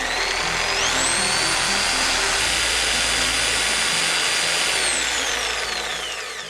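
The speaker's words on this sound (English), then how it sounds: "reciprocating saw" Loud reciprocating saw running steadily for several seconds, a dense high-pitched mechanical whine with a rising pitch at the start and a falling pitch as it winds down, heard alone without voices.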